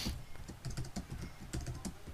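Rapid, steady typing on a computer keyboard during SQL Server database work, close and fairly soft, with no voices.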